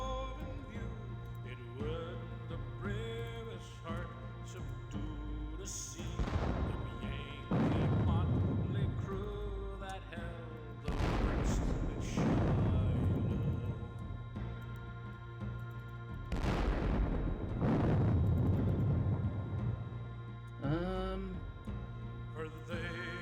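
Three heavy booms of artillery fire roll out a few seconds apart in a Gettysburg war video game, each a broad rumbling burst over a steady bed of tonal background music and voice.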